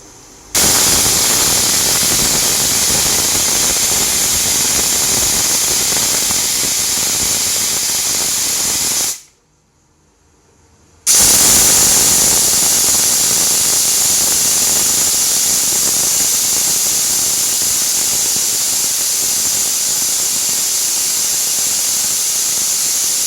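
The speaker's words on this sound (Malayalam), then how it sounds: "അപ്പോൾ കുക്കർ 2 വിസിൽ വരാൻ വേണ്ടിയിട്ട് വെയിറ്റ് ചെയ്യാണ്" A pressure cooker cooking biryani on a gas stove releases a loud, steady hiss of steam that runs continuously, breaks off for about two seconds, then resumes just as strongly.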